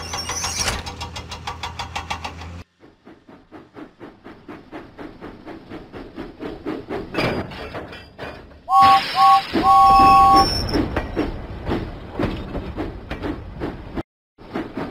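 The cartoon steam engine James puffs out of the docks in rhythmic chuffs of steam, with a brief whistle midway and busy background music around him.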